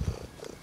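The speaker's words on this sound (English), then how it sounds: "You little cat." A cat purrs close by in one short, low, rumbling burst that fades within a moment.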